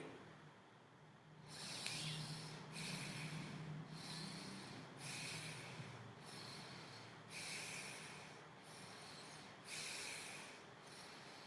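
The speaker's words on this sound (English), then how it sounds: "Let me breathe again." Deep, slow breaths come one after another in a regular rhythm, each a long breathy rush of air. They are close and fairly loud against a quiet background, with no talking.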